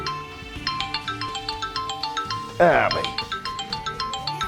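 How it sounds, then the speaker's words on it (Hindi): A phone ringtone rings for an incoming call in a Pakistani drama scene, playing a steady repeating electronic melody throughout, with a brief voice-like burst partway through. "आ गया चौधरी सिकंदर का फोन"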